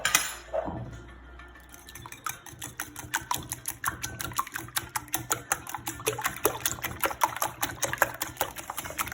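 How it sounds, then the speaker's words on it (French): Yogurt cake batter being stirred in a bowl, a rapid run of light clinks and scrapes as the utensil knocks the bowl's sides, close and steady after a brief pause, with no talking. "Alors je vide mon pot de yaourt. Voilà, je mélange un peu."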